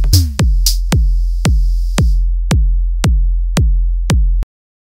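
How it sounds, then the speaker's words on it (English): Synthesized bass drum, a deep electronic kick struck nine times at an even steady pulse, each hit with a sharp click and a quickly decaying low boom, the first two topped by a brief hiss; no talking. "The bass drum I want to make sounds something like this."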